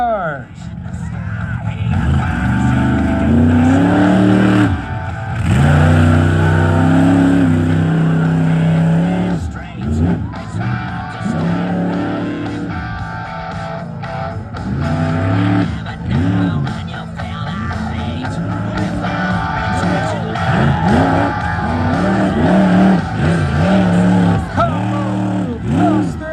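Monster truck engines roar and rev loudly and continuously as trucks drive over junk cars at a fall monster truck show, nearly buried beneath an announcer talking throughout over a loudspeaker.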